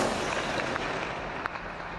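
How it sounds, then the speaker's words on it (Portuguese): A couple of sharp, distant gunshots fired into the air by a police officer behind a wall ring out over a steady wash of background noise, spaced well apart. "um policial se esconde atrás de um muro e faz disparos para o alto"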